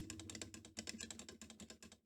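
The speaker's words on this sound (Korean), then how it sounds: "리뷰어 제일 중요한 것은 당연히 소리입니다. 그래서 우리 그냥 한번 스틱 확인해 봅시다." Clicking from a Korean-made arcade fight stick with a steel case, rapid plastic button and lever clicks in an uneven quick rhythm, close and quiet, with no voices.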